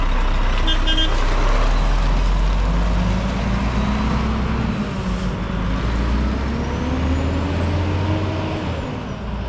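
Volvo FM 520 I-Shift truck running with a loud engine rumble, a rising high turbo whine climbing over it, and talk heard briefly at the start.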